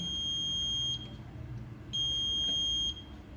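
The buzzer alarm of an IoT kWh meter goes off when the wattage limit is exceeded, giving two long, steady, high-pitched electronic tones with a short gap between them.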